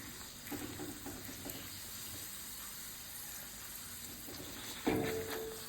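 Green peas kachori fry one at a time in hot oil with a soft, steady sizzle and faint bubbling. A sharper burst of crackle flares near the end.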